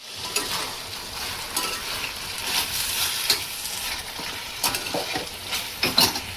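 Chicken kadai sautéing in a pan, with a steady frying sizzle and repeated scrapes and knocks of a spoon stirring through it, close and moderately loud, with no talking.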